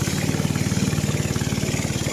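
A small boat's engine runs steadily on a trip toward Debotakhum in Bandarban, Bangladesh, putting out a rapid, even thudding pulse that sits close and fairly loud, with no one speaking.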